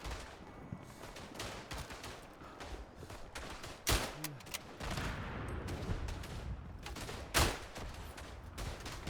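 Heavy gunfire and booming blasts fill a First World War trench fight in the game Verdun, a steady crackle of shots broken by a few loud, sharp explosions, fairly distant.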